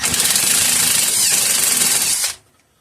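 An impact wrench hammers hard against a puller on a Clinton model 350 small engine, a loud, dense rattling burst lasting about two seconds before it cuts off abruptly.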